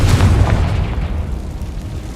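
A Confringo spell explodes in Hogwarts Legacy with a loud, close, deep boom at once, then a rumbling decay that dies down over about two seconds.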